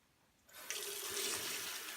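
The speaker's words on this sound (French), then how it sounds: "je me lave les mains" Water from a tap starts suddenly and keeps running steadily as hands are washed beneath it, a close, even hiss and splash with slight shifts in the flow and no talk.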